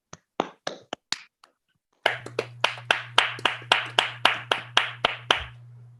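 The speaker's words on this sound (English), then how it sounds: "we all unmute ourselves and give an applause to both speakers" Online meeting attendees clap for two speakers over unmuted microphones. A few sparse, separated claps come first, then after a pause a single steady series of sharp, close claps over a low hum.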